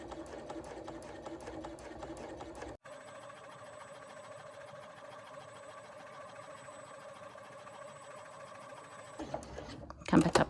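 A sewing machine stitches slowly and steadily around a curve on a pouch panel. It runs as a continuous close whir with a brief pause early on and a few clattering knocks at the end.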